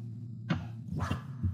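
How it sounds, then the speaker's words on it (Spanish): A dog barks in the video game Ian's Eyes: a few short, muffled yaps spread over a second and a half, fairly faint over a steady low background hum. "Vamos a ladrar."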